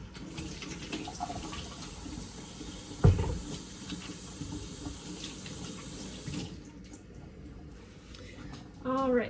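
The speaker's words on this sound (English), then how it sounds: "I'm gonna wash my hands." Water runs steadily from a kitchen tap as hands are washed mid-way through baking chocolate chip cookies, a continuous close splashing that cuts off near the end, followed by a brief clatter.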